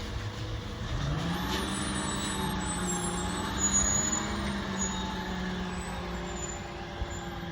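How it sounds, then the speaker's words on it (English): A garbage truck collecting yard waste drives past with a steady engine rumble and a hiss of air brakes, loud and close, then fading, with no talk over it. "There goes garbage truck 21."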